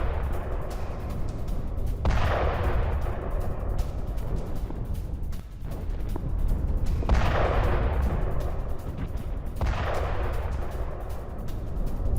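Artillery fire in wartime Kharkiv: several heavy, distant booms roll out a few seconds apart over a steady rumbling background, with no talk.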